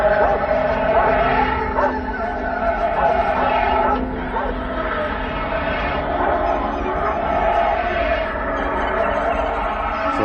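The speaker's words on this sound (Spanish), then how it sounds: "Mi perro se acercó a ella y empezó a gruñir enfurecido." A dog growls angrily outdoors on a lawn, with bark-like bursts sitting in a dense, steady wash of background noise and possible voices rather than standing out clearly.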